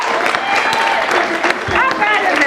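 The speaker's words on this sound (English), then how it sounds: "give one more round of applause" A short round of applause from a live audience at a late-night theater show, steady dense clapping with a few cheers and voices mixed in.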